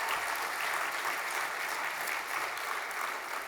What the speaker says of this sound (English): Please join me in one more round of applause to all of our newest inductees